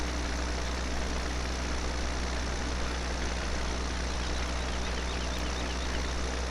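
A Deutz tractor in Farming Simulator 17 labours uphill, its engine holding a steady, dense, low drone with no change in pitch or rhythm and no voices over it.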